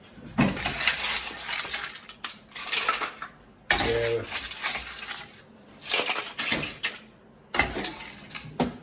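Mussels and clams scooped from a pot of soup, heard as bursts of clattering shells and clinking utensil against metal, broken by short pauses, close and fairly loud.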